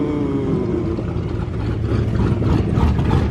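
A car engine idles at a car meet with a low, uneven rumble, holding a steady mid-level loudness with some rough mechanical texture and no talking.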